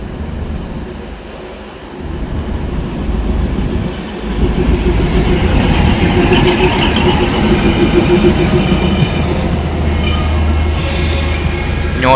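A Northern Railway DEMU train runs between Banihal and Srinagar through snowy country, giving a loud, steady rumble of wheels on track with rising clatter and faint squeals throughout, close by and with no voices.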